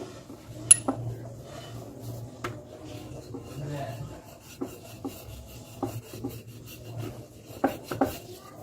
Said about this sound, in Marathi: आता लाटून घेऊया हलक्या हाताने लाटून घेऊ